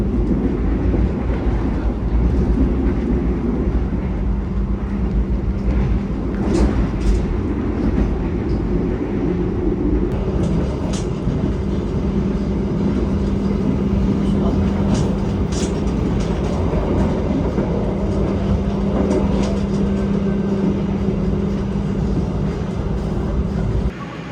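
Constant loud rumble and rail clatter of the Pangandaran economy train at Tasikmalaya station, a steady heavy drone with scattered metallic clicks and squeaks throughout, no voices.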